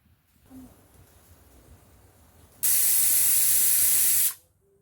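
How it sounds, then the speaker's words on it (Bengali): A pressure cooker cooking ghugni lets out one loud, steady steam hiss lasting under two seconds, which then cuts off into quiet background. "আমার এখানে চারটে সিটি পড়েছে"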